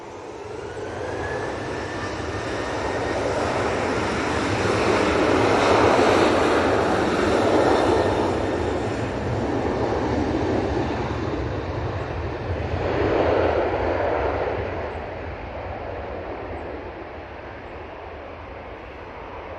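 An airliner lands on the return flight to Bologna at Manchester Airport, its broad engine roar swelling and fading over about twenty seconds, with peaks near the middle and again later, steady and fairly loud with no talk.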